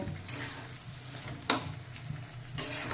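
Potatoes stirred into sizzling spiced paste in a pan for a banana flower curry, a steady frying hiss broken by two sharp scraping strokes of the spatula.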